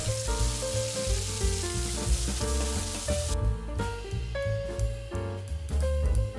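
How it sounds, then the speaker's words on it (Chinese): Yellow perch fillets dusted with cornstarch sizzle as they pan-fry in butter, a soft crackling hiss running under prominent background music. "锅中加入黄油，把鱼煎成金黄色。"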